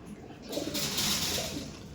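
Giribaj pigeons at a sale in Sodpur give a soft, brief coo up close, set against a steady background hiss.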